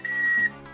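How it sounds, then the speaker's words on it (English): A 3D-printed plastic whistle gives one short, steady high-pitched blast of about half a second, close and clear, then stops. "We have a functioning whistle."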